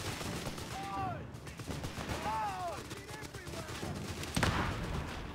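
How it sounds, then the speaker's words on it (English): Machine gun fire crackles in a Company of Heroes 3 battle as a steady, fairly distant rattle beneath combat voices, with one louder sharp report near the end. "Our machine gun should keep him pinned down."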